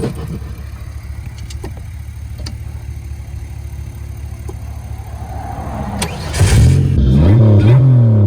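A 1986 Pontiac Fiero's engine after a breakdown, first a steady low idle rumble, then loud revving with rising and falling pitch near the end, close by and with no talking.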